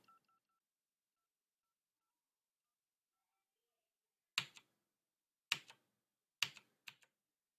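Telephone keypad presses in the UE4 game Hotel Blind: four short, sharp clicking tones spaced about a second apart, after near silence, with a quick fifth press at the end.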